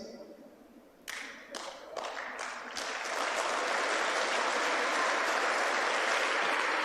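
A church congregation at a 96th-anniversary celebration breaks into applause for the women, starting with a few scattered claps and swelling into steady, dense clapping from a large crowd.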